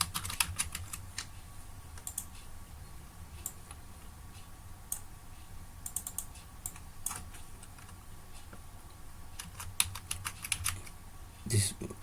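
Rapid clusters of clicky keystrokes on a computer keyboard, close and fairly faint, coming in uneven bursts with pauses over a steady electrical hum.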